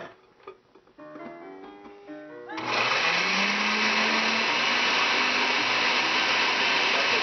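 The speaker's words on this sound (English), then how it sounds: "You always got to help your blender, you know" A kitchen blender chops and purees pieces of onion, first with a few knocks and rattles as the pieces settle, then rising into a loud, steady whirring roar that holds to the end.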